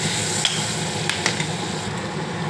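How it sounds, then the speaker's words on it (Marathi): Garlic is roasting in a pan for mushroom soup, giving a constant dense sizzle with a few faint clicks of a utensil on the pan. "लसूणला तो थोडा भाजायचा."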